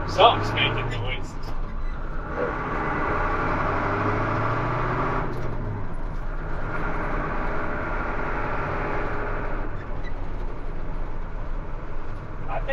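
A CAT 3208 diesel truck engine runs steadily with a low, even rumble that continues throughout, while people talk over it nearby.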